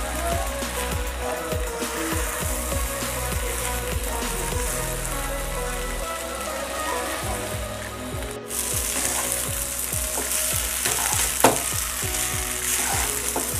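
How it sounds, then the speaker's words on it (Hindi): Leftover rice being stirred and fried in a pan, a continuous bright sizzle with rhythmic scraping strokes of a spatula, close and steady, with a brief dropout midway. "चावल को अच्छे से मिक्स करेंगे"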